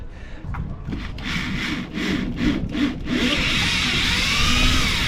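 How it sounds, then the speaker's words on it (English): A small power drill whirs into a boat transom, starting in short bursts and then running steadily at a high pitch, loud and close. "I'm going to drill with a little drill first."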